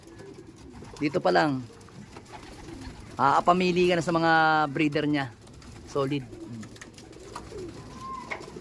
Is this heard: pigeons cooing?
yes